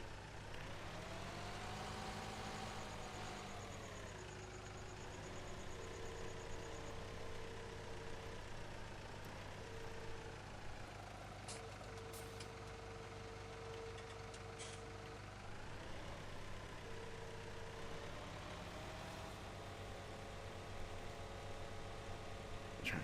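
Tractor engine running steadily under heavy load while lifting a log, a continuous low mechanical drone with shifting pitch and brief hisses, loud and close with no talk.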